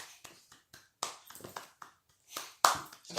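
Sharp hand claps and taps in an indoor room, scattered in irregular bursts with brief pauses, ending in a louder cluster of claps near the close.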